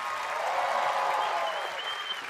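A TV studio audience claps for the house band on a live variety talk show, a steady, dense wash of applause filling the whole stretch with a faint murmur of voices underneath.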